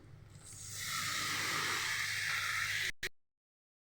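Water poured into a hot pan of spices for cooking paneer hisses up sharply into a loud, steady sizzle that holds for a couple of seconds, then cuts off abruptly, no talk.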